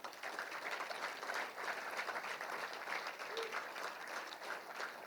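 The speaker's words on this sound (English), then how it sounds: "another big round of applause for this outstanding group of Hall of Fame inductees" Applause from the crowd at a high school athletics Hall of Fame induction ceremony, a steady, distant-sounding wash of clapping that holds evenly throughout at a fairly low level.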